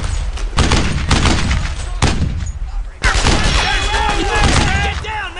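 Covering gunfire in Brothers in Arms: Earned in Blood, sharp rifle shots cracking in quick succession, then a sustained burst with battlefield chatter and voices calling out in the background.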